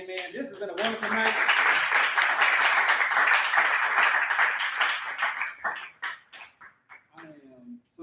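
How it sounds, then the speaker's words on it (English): An audience at a poetry open mic night bursts into sustained, loud applause and cheering that swells for several seconds, then thins into scattered claps under a speaker's voice. "Give yourselves a round of applause again"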